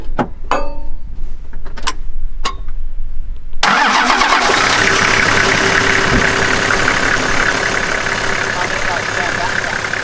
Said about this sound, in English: I'll go start the car.